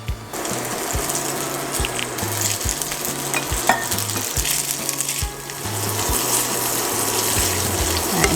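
Pasta being stirred into sizzling bacon in a pan for carbonara, a steady close frying crackle with a regular pulsing rattle running underneath.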